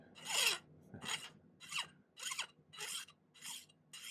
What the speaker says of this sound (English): it prevents me from over filing and just filing too much off